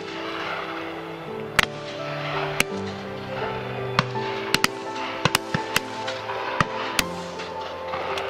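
Shotguns fired at a partridge and pheasant shoot, scattered sharp pops at varying distances over a steady background of outdoor noise and hum.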